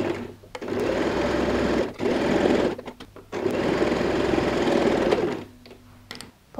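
Sewing machine stitching a pocket in place on a handbag, close and loud, running in three rapid bursts separated by short pauses.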